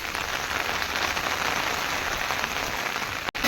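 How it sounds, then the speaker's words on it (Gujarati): Steady heavy rain pours down in a village, a dense, even hiss of drops on surfaces, close and continuous, with no voices and a brief dropout near the end. "તો ફૂલ વરસાદ ચાલુ થઈ ગયો છે"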